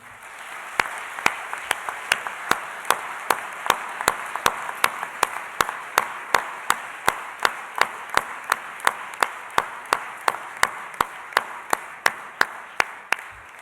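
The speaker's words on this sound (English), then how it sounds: "one more big applause to Dr. Ignazio Marin" A ceremony audience applauds a doctor about to speak, a continuous wash of clapping with evenly spaced sharp clicks ticking through it at a steady rhythm.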